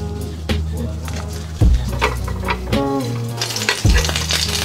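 Shrimp paste seaweed rolls fry in a pan with a steady sizzle, broken by several clattering stirs and scrapes of a utensil against the metal.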